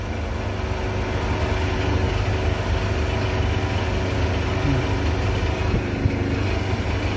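An electric motor running at low speed gives off a steady, unbroken low hum with a faint whine, close and constant throughout.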